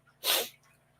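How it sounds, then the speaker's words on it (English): A single short, breathy sneeze bursts out close by, sharp and hissy, then quiet follows. "I'm done sneezing."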